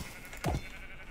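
One short faint bleat from a sheep in the RLCraft Minecraft game, a quick wavering call rising over a quiet hissing background.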